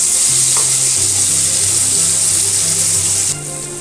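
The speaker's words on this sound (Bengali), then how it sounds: "ফুলগুলো এপিট উপিট করে ভালো করে লাল করে ভেজে দিতে হবে।" Stuffed ash gourd pieces frying in hot oil, a loud, dense, continuous sizzle heard close up, easing slightly at the very end.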